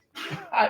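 A single short sneeze, quick and fairly soft, in a quiet indoor space.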